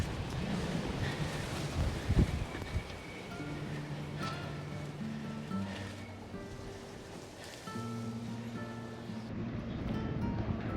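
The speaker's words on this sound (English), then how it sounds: "It's quite windy." Strong gusting wind buffets the microphone on a hillside street in a Spanish hill town in winter, a constant rough roar, with faint tonal background sounds and no clear talk.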